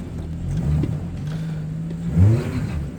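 A Honda Civic Type R FN2, front-wheel drive, revs hard while stuck in deep snow. The close, loud engine holds a steady drone, then surges into a sharper climbing rev near the end.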